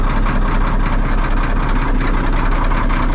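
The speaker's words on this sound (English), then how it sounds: "the 1600 series engines, they just sound so good" A Caterpillar 1600 series diesel engine runs steadily and loudly up close, a deep continuous rumble with a fast even firing pulse throughout and no voices.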